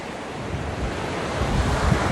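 Ocean waves rushing up Pearl White Beach in Dinadiawan, Aurora, with steady surf noise and wind buffeting the microphone, growing slightly louder toward the end; no voices.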